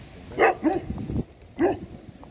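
Dogs bark nearby, two or three sharp barks close together followed by another after a brief pause, with quieter background noise between.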